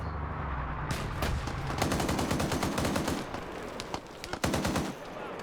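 Rapid machine-gun bursts and single gunshots fire in a military video game during a vehicle fight with tandem-warhead weapons, loud and close, with dense rattling volleys and a sharp final shot near the end.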